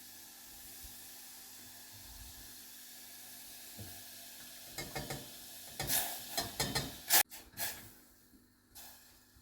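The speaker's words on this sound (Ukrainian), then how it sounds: "Весь час мішаємо за допомогою лопатки." A spatula scrapes and stirs through thick fruit jam cooking in a pot, quiet at first, then a cluster of louder scraping strokes and clatters.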